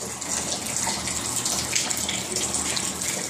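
Water from a roof leak runs steadily into a temporary catch basin fitted with a drain hose, making a continuous close splashing trickle like a filling tub, with no talking.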